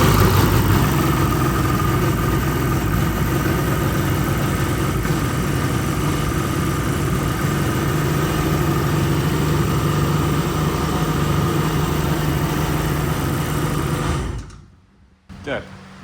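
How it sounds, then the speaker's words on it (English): A 2001 Kawasaki 1100 STX DI jet ski engine fires and runs steadily with a loud, continuous droning note, then cuts off abruptly near the end. "Okay, well, she fires, but that's a lot of smoke."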